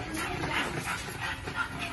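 Pomeranian dogs at a pet market in Bocaue whimper and yip softly in short, faint bursts, with a low background of market noise.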